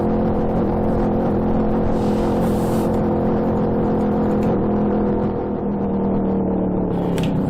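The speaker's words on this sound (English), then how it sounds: "This is a main road through West Bromwich." Steady traffic roar along a main road through West Bromwich on a wet autumn day, a continuous loud engine and tyre rumble with vehicles passing close by throughout.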